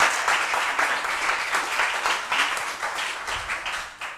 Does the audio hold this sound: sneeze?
no